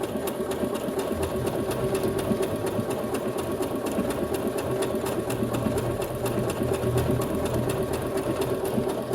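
A Brother CS6000XL sewing machine runs steadily close by, a constant mechanical whir with a fast rhythmic needle clatter.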